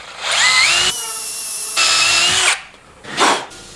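A power drill with a 9/64 bit bores a pilot hole for a number 8 screw tap during a truck camper build, with two close, loud whining bursts and then a brief final spin.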